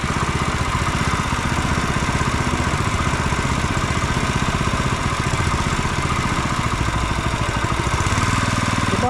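A small garden machine engine running steadily at an urban garden, a loud, close, even mechanical drone that holds without a break for about nine seconds.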